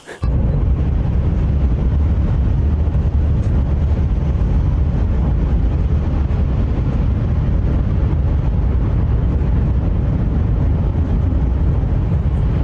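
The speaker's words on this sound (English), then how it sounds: "That first whoosh sound you hear when a train passes by" A Japanese bullet train rushes past at high speed, a loud, sustained roaring whoosh of wind and rumble that fills the whole stretch without letup.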